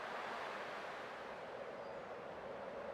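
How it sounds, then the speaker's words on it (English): Ocean waves murmur as ambience in the Honkai: Star Rail video game, a faint, steady wash of surf with no voices over it. "I can still clearly hear the sound of the waves."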